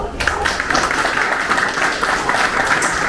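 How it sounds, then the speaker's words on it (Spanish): Steady, dense applause from a crowd at a 50th birthday celebration, many hands clapping continuously at a fairly even loudness throughout. "fuerte los aplausos"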